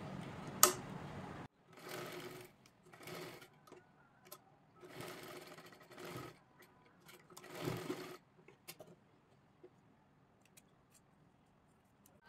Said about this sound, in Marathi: व्यवस्थित इथे शिलाई करून पॅक करायचं आहे